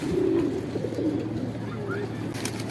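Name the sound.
Shahjahanpuri pigeons cooing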